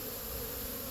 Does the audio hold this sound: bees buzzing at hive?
yes